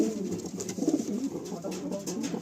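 A male high-flying pigeon in a loft coos in a low, rolling, continuous run, close and fairly soft against a faint background hiss.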